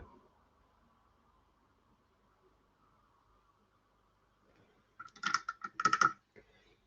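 Quick bursts of computer keyboard typing clack close by near the end, following a long stretch of faint steady hum.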